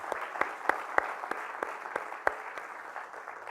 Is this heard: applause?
yes